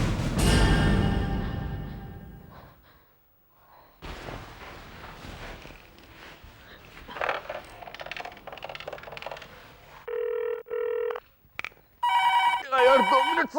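A telephone bell rings in bursts near the end of a domestic comedy scene, following a coin-like clatter and background talk, with short repeated ring patterns close and fairly loud.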